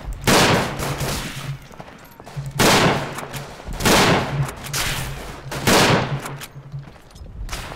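Bursts of gunfire in the World War 1 trench warfare game Verdun come in roughly four loud volleys, each a cluster of rifle and machine-gun shots that fades before the next, with low rumbling between them and no talking.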